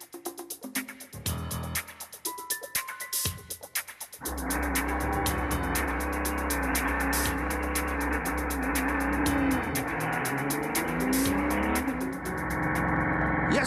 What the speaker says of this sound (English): Will the Audi R10 TDI's engine run successfully from scratch?